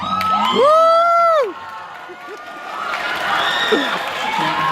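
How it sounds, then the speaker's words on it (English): Audience cheering and whoops at a high school band banquet, a loud burst of crowd shouting in the first second and a half, then a lower murmur of crowd noise with scattered voices. "Can't hold no applause for the queen."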